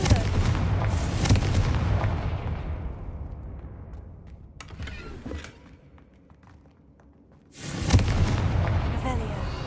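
Confringo fire spells explode in Hogwarts Legacy, two loud booming blasts with rumbling decay: one at the start, fading over several seconds, and another near the end, with small crackles between.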